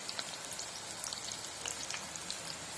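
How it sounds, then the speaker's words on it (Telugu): Soya chunk pakoda frying in oil over a medium flame, a quiet continuous crackling sizzle with scattered fine pops, close and steady with no voices. "బాగా హై ఫ్లేమ్లో వేయించకూడదండి మీడియం ఫ్లేమ్లో వేయించుకోవాలి మిల్లి మేకర్ పకోడీ"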